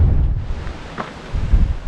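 Strong wind blows on a hilltop among vineyards and tree rows during a gravel bike ride, buffeting the microphone in heavy low rumbling gusts that swell and fade, with no talking.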